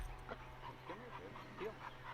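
A pet dog whimpers and yips softly in a series of high, wavering cries over a steady low background hum, fairly faint and close, with no clear speech.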